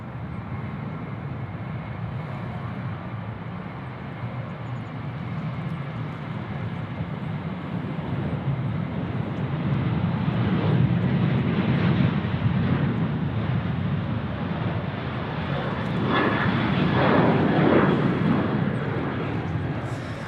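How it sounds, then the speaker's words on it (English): A Velocity airliner on its takeoff roll down runway 34 right at Sydney Airport, a broad, distant jet engine roar that swells steadily louder over about twenty seconds with no talk heard. "Velocity 738 now is rolling runway 34 right."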